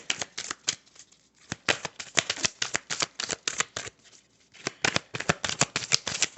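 Oracle cards being shuffled in quick bursts of crisp riffling and flicking, close up and alone, with short pauses between runs of rapid slaps.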